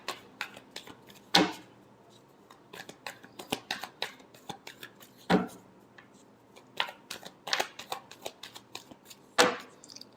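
Tarot cards being shuffled at close range, a quick run of crisp riffling flicks and papery slaps in uneven bursts, with a few louder snaps standing out, no voice over them.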